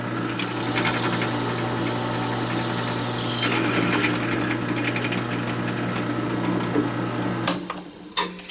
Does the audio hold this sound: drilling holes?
yes